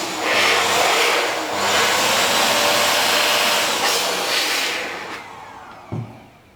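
A Compu Cleaner 2.0 electric air blower whooshes steadily as it blows dust out of a computer, its broadband roar holding for about five seconds, then cutting out, with a short bump near the end.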